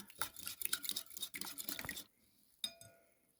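A whisk beating milk into liver mixture in a bowl, quick rapid clinking and splashing strokes for about two seconds, then a pause and one last clink, close and fairly quiet.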